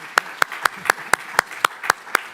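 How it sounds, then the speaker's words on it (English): Hands clap for the panelists at the close of a conference session on climate change, nine crisp, evenly spaced claps in a steady rhythm, close and clear with no voices over them. "I would like to ask my colleagues here in the audience to spend a warm round of applause for the panelists"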